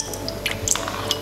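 Water is added to moringa hair spray, producing close, wet squishing and dripping with small bright splashes and plinks scattered over a brief stretch, no speech.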